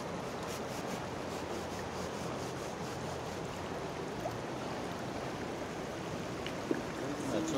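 Large river rushing steadily where gold is panned, a dense, continuous broadband roar of flowing water that stays loud and unchanging throughout, with a few faint clicks near the end.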